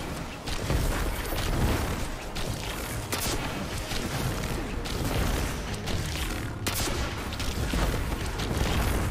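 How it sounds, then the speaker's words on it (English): Rockets fired in flight in Destiny 2 during aerial combat, a dense run of loud booming blasts and bursts layered over constant roaring noise, with sharper impacts punctuating the stream. "Now you have your point, you can shoot rockets."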